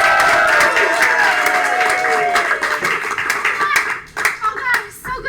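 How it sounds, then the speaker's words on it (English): An audience on a comedy game show stage claps and applauds to welcome a guest, a dense, lively burst of many hands that gradually thins, with voices rising over it toward the end. "So please, with a round of applause, welcome Miss April Dudash to the stage."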